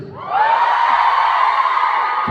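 Fans at a birthday party fan event burst into shrill, sustained cheering and shouting. The sound rises quickly from a quieter start into a loud, steady crowd roar.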